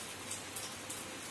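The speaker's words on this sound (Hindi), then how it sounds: "और बारिश अब हो गई है तेज।" Heavy rain pours steadily outdoors near plants, a dense close hiss with a few louder drop splashes standing out, and no one talking.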